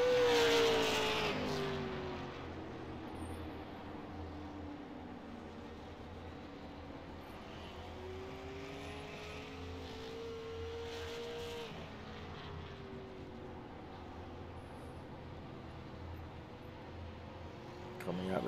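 A race car runs a timed lap on a track at the USA Super 50, its engine a steady distant drone with shifting pitch as it passes and changes gear, under continuous announcer commentary.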